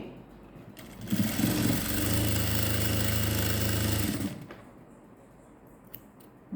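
A sewing machine runs in one steady burst of about three seconds while stitching a skirt from an old silk saree, a close humming whir with a clicking needle, then stops and quiet handling follows.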